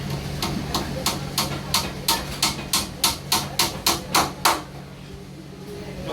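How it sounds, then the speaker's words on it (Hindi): A wooden building strip is hammered onto a main door in a carpentry workshop in Mumbai, giving a run of about fourteen evenly spaced sharp knocks that rise in force and then stop, over a low workshop hum. "इसकी बिल्डिंग पट्टी हम ठोक रहे हैं।"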